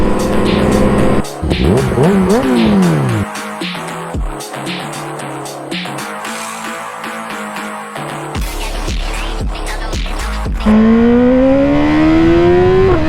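A BMW S1000RR sportbike engine roars close and loud while riding, its pitch climbing in repeated rising sweeps that break off at each gear change before revving up again.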